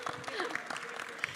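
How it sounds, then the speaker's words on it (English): Brief burst of audience clapping at a regional symposium, fairly steady for just over a second with a voice talking over it. "You get applause already"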